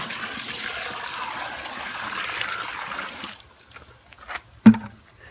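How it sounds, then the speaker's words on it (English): Pond water dumped into a tub while transplanting a banana pup: a steady pouring gush of water for a few seconds, then it stops, leaving a few small splashes and a louder splash or thud near the end. "Then I'm gonna dump the rest of this pond water in there to mix it up."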